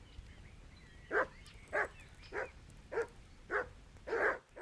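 A dog in the medieval game Kingdom Come: Deliverance barks six times at an even, unhurried pace, the last bark slightly longer, over quiet background ambience.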